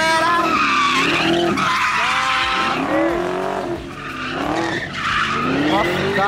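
A new Chevrolet Camaro drifting, with long, loud tire squeals that rise and fall in wavering sweeps over a roaring engine, fading briefly midway before screeching again.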